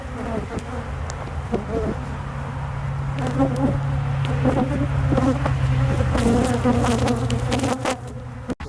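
Honeybees at an open beehive during a hive inspection, a dense close buzzing swarm that hums continuously throughout, with a few brief outdoor knocks and faint background sounds.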